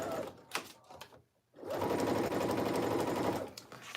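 A sewing machine stitches a jacket seam at regular stitch length, a brief rattling start and pause, then a steady close whir for about two seconds before slowing.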